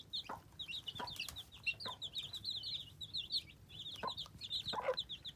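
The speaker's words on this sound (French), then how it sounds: "11 poussins, il y en a partout." A brood of eleven young chicks peeps in rapid, high chirps close by, scattered around as some drink, with a few soft clucks and scuffs mixed in and no talking.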